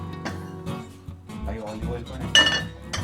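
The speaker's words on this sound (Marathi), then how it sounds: "मी एक प्रेशर पॅन घेतलाय, त्याच्यामध्ये मी तेल घालतोय." A pressure pan clinks and knocks as it is handled on a kitchen stove while oil goes in for misal, with scattered metallic taps and clinks close by.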